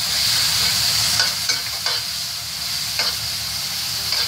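Garlic and ginger fry in plenty of peanut oil with a steady, bright sizzle, broken by several sharp stirring scrapes close by.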